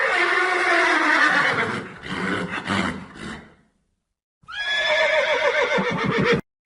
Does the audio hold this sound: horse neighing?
yes